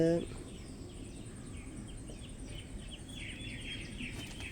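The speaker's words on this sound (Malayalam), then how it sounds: "കാലത്ത് നല്ല കിളികളുടെ സൗണ്ടും" Morning birdsong, with faint, distant chirps and tweets repeating over a steady outdoor hum.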